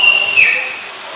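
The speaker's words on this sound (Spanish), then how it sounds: "chiflan en esa calle" People whistle in a street: one short, high, clear whistle slides slightly downward and fades quickly.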